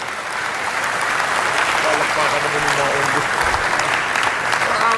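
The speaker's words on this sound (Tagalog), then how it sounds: "Palakpak doon." A crowd breaks into applause during a Philippine update on a rice-price task force, building quickly into a full, sustained wash of clapping that holds steady, with a faint voice briefly underneath.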